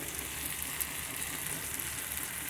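Onion, tomato, ghati masala, garam masala and turmeric sizzle steadily on a hot tawa over medium flame for boiled egg fry, a continuous close frying hiss with light stirring.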